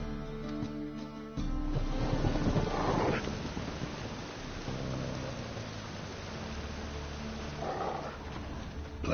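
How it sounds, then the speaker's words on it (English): Dogs in a video game bark and whimper at moderate volume over a windy, rumbling ambience, with no talking. "Just beware of the dogs."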